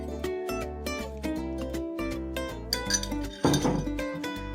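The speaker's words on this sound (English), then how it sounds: "I'm just going to grab a spoon, put a little bit on there." A metal spoon clinks and scrapes against a dish while banana syrup is served onto pancakes, a few bright close taps followed by a brief louder clatter.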